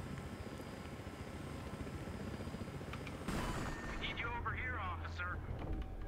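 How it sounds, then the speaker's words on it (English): Loud helicopter rotor rumble in Battlefield Hardline mixed with gunfire and explosions, with a voice speaking over the action in the second half. "So, there's a helicopter."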